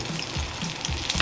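An eggplant omelette (tortang talong) fries in a pan with a close, steady sizzle and crackle throughout the short stretch, with no talk over it.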